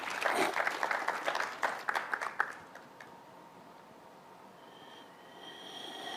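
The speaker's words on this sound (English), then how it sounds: "We appreciate that you applaud yourselves." Audience applause and clapping at a talk, a dense burst for about two and a half seconds that thins out and fades, leaving quiet room tone with a faint tone.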